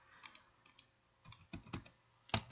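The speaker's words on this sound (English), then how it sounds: "So select it and then hit delete on the keyboard and that gets rid of that." Several light key presses on a computer keyboard while deleting a selected shape in drawing software, quiet isolated clicks with a sharper final tap near the end.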